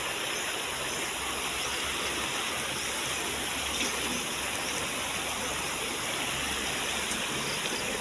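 A clear river flows steadily in an outdoor setting, a constant broad rushing and gurgling wash of water that stays even and close throughout, with no voices.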